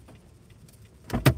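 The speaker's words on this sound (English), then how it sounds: "Well, that car is fucking leaving, too." A car pulls away outside; a low engine rumble idles quietly, then a louder, broad whoosh swells near the end as the vehicle moves off nearby.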